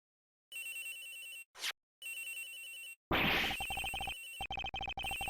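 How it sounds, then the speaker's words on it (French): A mobile phone rings in the Ace Attorney Investigations video game with bursts of electronic tone, a short pause between them, then a noisier burst followed by rapid repeated chirps, all loud and without talk. "Le téléphone de l'agent X? Il sonne quelque part"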